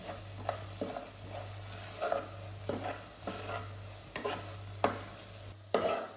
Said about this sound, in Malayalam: എന്നിട്ട് നമുക്കതൊന്ന് മിക്സ് ചെയ്യാം